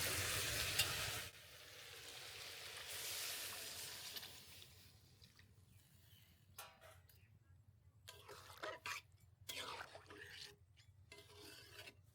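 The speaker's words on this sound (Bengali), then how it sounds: "মুরগির গোশগুলো সুন্দর মতো কষিয়ে নিয়েছি এখন দিয়ে দিব পানি" Water hits a pan of sautéed, well-browned chicken with a loud hissing rush that quickly drops to a quieter simmering sizzle, broken by scraping stirs.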